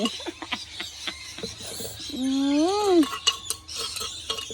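Papaya salad (som tam) pounded in a mortar with dried and fresh chilies, eggplant, tamarind water and other fruits: sharp, irregular knocks close by come in short bursts, broken midway by a brief rising tonal whine.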